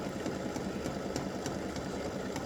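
An embroidery machine stitches a triple stitch on a Valentine roses mug rug made in the hoop, giving a steady, close mechanical whir with regular faint ticks of the needle throughout.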